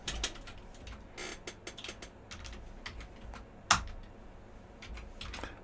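Computer keyboard typing comes through as quiet, irregular bursts of clicking keystrokes, close-up and alone, with one sharper, louder key strike partway through.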